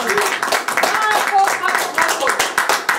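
Audience at a wine tasting game in France applauding the winner, a dense burst of clapping with cheers and voices mixed in, close and loud throughout.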